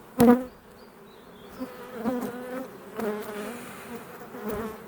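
Honeybees buzzing softly in a hive being expanded with wax foundation, a low steady hum with a brief louder burst at the start and faint rising swells throughout.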